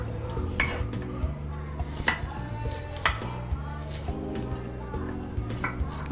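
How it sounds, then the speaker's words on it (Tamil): Bitter gourd being chopped finely with a knife on a board in a home kitchen, a steady run of sharp repeated knife taps, close and fairly loud, with faint clinks of utensils and a low background hum. "இந்தமாரி பொடிசாக நறுக்கிக்கணும்."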